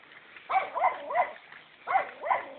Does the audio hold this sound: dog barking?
yes